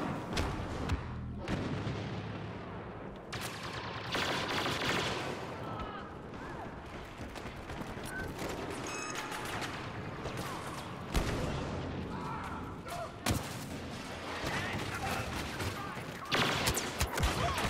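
Star Wars Battlefront firefight with dense bursts of blaster and gunfire and booming explosions, loud and continuous with someone talking over it at times.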